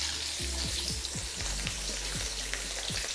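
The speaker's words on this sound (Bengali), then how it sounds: "এবার আমি এখানে একে একে ওই একই তেলে মাছগুলোকে ভেজে নেব।" Pieces of katla fish frying in a small amount of hot oil in a kadai, giving a continuous crackling sizzle with a run of soft, evenly spaced knocks through it.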